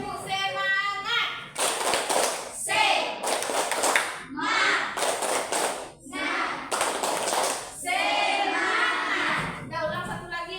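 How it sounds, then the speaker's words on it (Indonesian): Classroom children perform a rhythmic spirit clap (tepuk semangat), with bursts of loud group clapping in set patterns alternating with spoken and chanted words, near and energetic. "Tepuk semangat."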